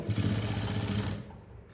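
A sewing machine stitching a coat collar, a fast rhythmic buzzing run for about a second before slowing and stopping, fairly quiet.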